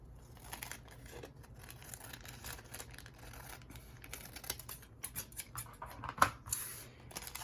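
Scissors snip around a bag while trimming it to size for a craft project, leaving a narrow border; the blades click quietly in an irregular series of small cuts with faint crinkling, close but soft.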